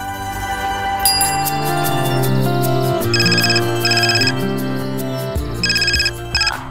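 A telephone ringtone sounds during a Hindi television drama scene, ringing in repeated loud electronic bursts over steady background music.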